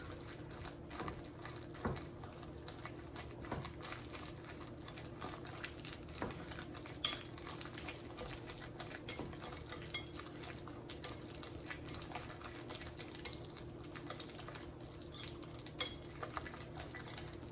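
Soft scraping and clinking of a utensil mashing bananas in a bowl for banana bread, quiet and steady with occasional sharper taps against the bowl.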